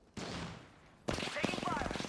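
Rapid bursts of gunfire in the video game Apex Legends, loud and close, one sharp burst then a second sustained volley, with a voice calling out over the shots.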